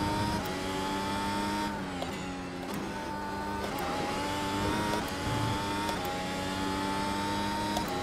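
A Formula race car at Monza in a racing game screams at high revs, with repeated gear shifts dipping and climbing the engine pitch as it accelerates, loud and continuous with no talking.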